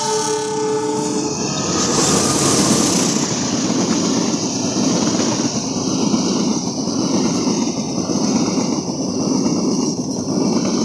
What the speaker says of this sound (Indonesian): Kita akan mengabadikan kereta api Wijaya Kusuma.